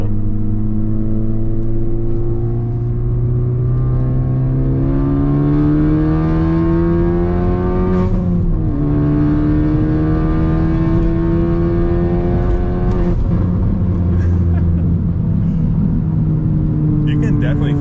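A 2022 Mk8 VW GTI with a flame tune revs, its engine note rising and falling steadily, with brief dips where it drops off. Speech-like sound runs over it.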